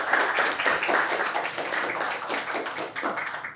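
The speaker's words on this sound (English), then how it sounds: "Can we give him a round of applause?" Audience clapping for a lecturer at the close of a talk on communism in China, a steady patter of many hands sustained for several seconds at moderate loudness.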